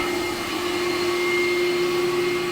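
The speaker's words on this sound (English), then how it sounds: "So we're sucking the water out of this 200-gallon water tank." Vacuum pump sucking water out of a 200-gallon water tank, a steady loud droning whine with a constant tone and no breaks.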